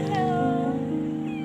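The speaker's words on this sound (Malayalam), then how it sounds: "അങ്ങനെ പോകുന്ന വഴി ഒരു പൂച്ച മേടത്തിന്റെ മുന്നിൽ ചെന്ന് പെട്ടു" A cat met along a path gives one drawn-out, close, clear meow that holds steady and slowly fades, with nothing else standing out.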